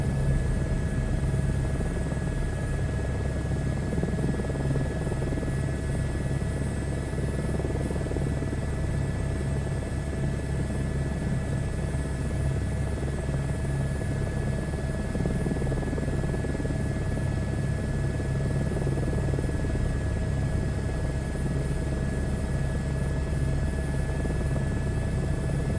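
An H125 helicopter in a video game flight simulator flies steadily, a constant droning rotor and engine hum with a faint high whine, unchanging and fairly loud for the whole stretch with no voices.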